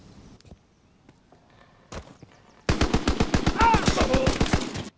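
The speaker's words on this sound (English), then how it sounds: "We're going to be using the PPSH submachine gun here" A PPSh submachine gun in a video game rips off a long rapid burst of evenly spaced shots, loud and close, after a quiet start with a couple of isolated clicks and thumps.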